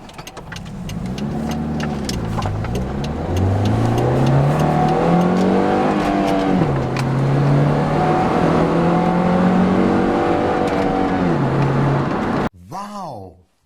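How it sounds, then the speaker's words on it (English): A 2005 Saturn Vue V6 SUV accelerating hard, the engine note climbing in repeated rising sweeps through the gears, loud and close from inside the cabin, before cutting off abruptly near the end. "I'm going to see just how responsive this vehicle is when it comes to acceleration."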